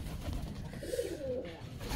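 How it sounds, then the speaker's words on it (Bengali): Several pairs of pigeons cooing in a loft where many pairs are nesting, a soft low burbling coo repeating steadily and close, with no talk. "প্রায় 5 জোড়া কবুতর"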